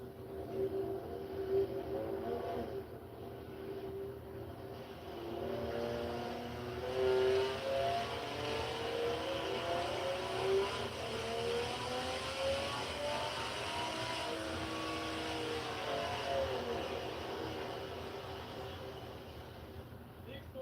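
A tuned car engine making about 600 wheel horsepower revs and holds a strong, rising roar for roughly twenty seconds, a steady loud drone with climbing tones, while voices talk over it.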